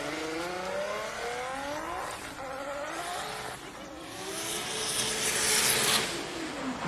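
Nissan S15 drift car with a 2JZ engine and Toyo tires at a drift competition in Malaysia, engine note rising and falling through revs as the tires spin and squeal, growing louder toward the end.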